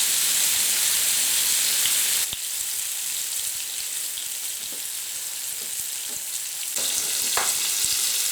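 Beef mince meatballs with cumin and coriander frying in a pan, a loud continuous hiss of hot fat, close, with a few faint knocks and a surge in intensity toward the end, no talk.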